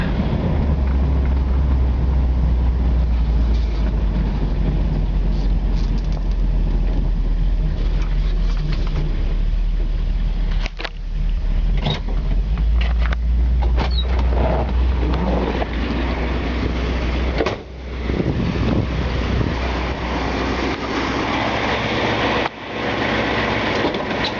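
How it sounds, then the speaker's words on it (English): A 1964 Galaxie 500XL V8 engine runs continuously with a deep, loud rumble, steady for the whole stretch apart from a couple of brief dips. "Engine sounds real good."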